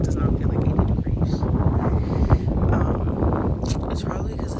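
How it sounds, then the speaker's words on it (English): Strong wind blows at the beach, a constant rough buffeting roar hitting the microphone throughout, loud and close, with a person talking over it. "It's probably because it's fucking windy."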